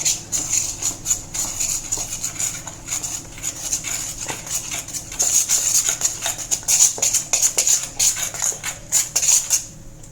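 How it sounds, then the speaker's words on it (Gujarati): Gram flour batter for potato vadas is mixed with water in a bowl, a spoon scraping and clinking against the sides in quick, steady repeated strokes, close and fairly loud, with no talk. "પછી પાણી નાખીને તેનું ખીરું બનાવવાનું છે."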